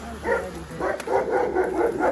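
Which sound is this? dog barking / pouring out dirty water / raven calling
dog barking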